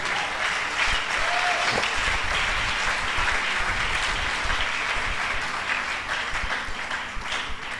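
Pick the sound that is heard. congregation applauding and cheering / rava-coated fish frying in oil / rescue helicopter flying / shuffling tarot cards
congregation applauding and cheering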